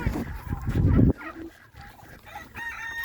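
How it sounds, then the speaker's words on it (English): A black turkey gobbles on a farm, with a loud, rough burst of noise at first and then a few thinner calls close by. "Oh, black turkey."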